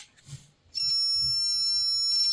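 An HGL-400 double-pole voltage tester, 12 to 400 volts AC/DC, sounds a loud continuous high-pitched electronic tone when probed on 230-volt mains, starting abruptly after a moment of faint handling noise.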